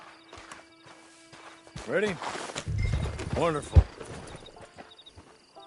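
Horse hooves clop in a short rhythmic series in Red Dead Online beneath voices talking and a brief exclamation, with a soft background music bed.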